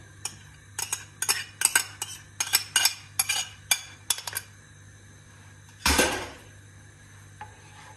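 A spoon stirs raspberry syrup with starch in a pan, clinking against the metal in a quick, even run of strokes, then a louder scrape near the end; close and clear with no talk.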